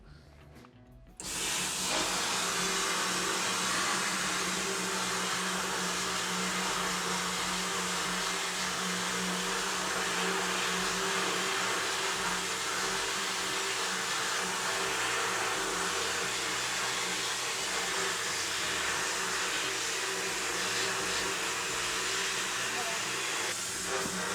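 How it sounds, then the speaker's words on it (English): A VH2000 wet blast cabinet washing and blasting an engine part, starting abruptly after a short pause into a loud, continuous roaring hiss with a steady machine hum underneath. "This example, we're gonna be parts washing and blasting in the same process. And this is in a VH2000 wet blast cabinet."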